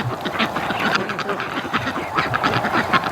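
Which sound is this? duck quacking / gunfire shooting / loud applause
duck quacking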